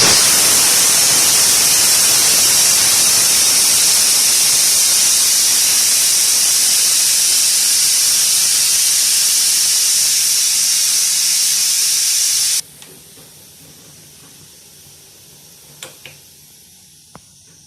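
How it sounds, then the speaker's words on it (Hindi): Loud, steady hiss of steam rushing out of a pressure cooker for a long stretch, then it cuts off abruptly, leaving quiet room tone with a few small clicks. "प्रेशर कुकर में से भाप निकल गई है"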